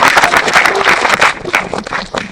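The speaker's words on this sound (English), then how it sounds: "Let's give Mr. Mendez-Ball another round of applause" Audience applause for an honoree at a 2023 school Celebration of Excellence, many hands clapping in a brisk, busy patter that stays strong, then thins slightly toward the end.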